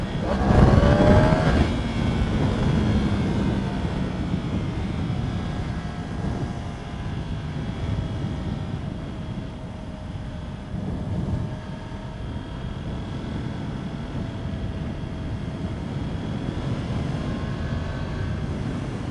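A 2020 Yamaha R1M motorcycle engine drones steadily while being ridden, a loud sustained roar with wind rush and slowly shifting pitch, an early surge fading to an even cruising tone, no voices.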